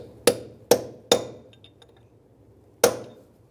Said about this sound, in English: I'm going to peen over that end of the lip so that it's a safety lock